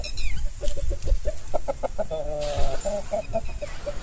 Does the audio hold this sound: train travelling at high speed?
no